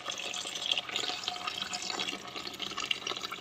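Water boiling in a pot with pork pata (pig trotter), a steady bubbling and rolling wash of liquid heard close up and alone, with no talk.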